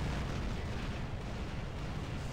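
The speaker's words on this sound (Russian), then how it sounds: "вот я нажимаю бежать и взрываюсь" A robot blowing up in the War Robots video game: a dense, rumbling explosion roar that stays loud and steady for a couple of seconds, with no voices.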